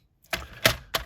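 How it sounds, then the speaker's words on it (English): Paper trimmer slicing a cardstock mat for a stamped card: three quick sharp cutting strokes, close and crisp, spaced about a third of a second apart with nothing else around them. "let me cut the mat first. I do need my trimmer again"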